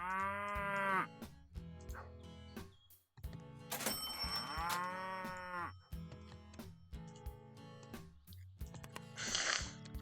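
Cows on a farm moo loudly and close by, several long drawn-out calls with gaps between them and a snort near the end, with no talking.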